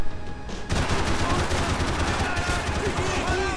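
Sustained gunfire from a Max Payne 3 shootout on PC, dense rapid shots rattling continuously at close range, with someone talking over the battle.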